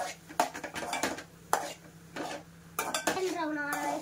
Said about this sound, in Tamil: வெங்காயத்தை போட்டாச்சு. இப்போ நல்லா வதக்கிக்கலாம்.